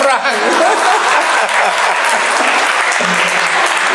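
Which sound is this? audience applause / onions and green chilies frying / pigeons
audience applause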